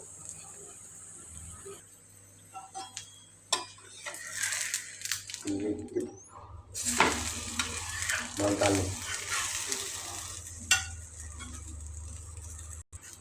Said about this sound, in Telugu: పెన్ను మీద వేసుకోవాలి మీడియం ఫ్లేమ్ మీద లైట్గా కాల్చాలి